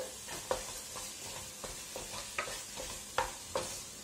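Grated carrot halwa is stirred in ghee in a pan, giving a steady soft sizzle broken by a few sharp spoon scrapes and taps at irregular intervals. No one speaks.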